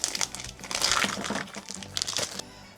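Scissors cut open plastic packaging on a ham, a close, loud crinkling and tearing that runs continuously for a few seconds before stopping.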